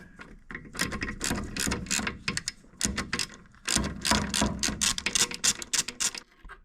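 A ratchet wrench loosens an 8mm bolt holding the speedometer cable on a Vespa P200 scooter, giving a close, busy run of rapid clicking pawl strokes in uneven bursts with brief pauses.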